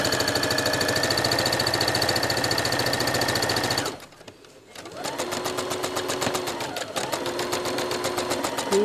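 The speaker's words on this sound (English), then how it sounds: "You may want to sew slower, just to make sure that you keep everything lined up according to this foot right here." A sewing machine stitches through quilted tote bag fabric in a loud, steady run with a fast rhythmic chatter, pausing briefly around the middle, then resuming with uneven bursts of stitching.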